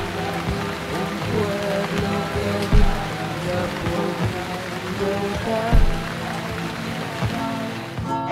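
Rain falls steadily and fairly close in a rural village, a dense patter on surfaces with a few louder thumps and knocks scattered through it, with no talk over it.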